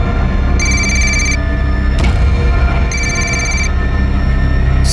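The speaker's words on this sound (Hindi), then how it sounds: "घंटी की आवाज आ रही है अंदर से, फोन तुम्हारा है?" A mobile phone rings from inside a room during a crime drama scene, two bright electronic ringtone bursts repeating with a pause between them over a loud steady background hum.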